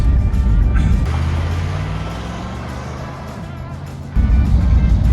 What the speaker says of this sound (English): This Ram Charger essentially sat for 20 years, and we're driving down the road.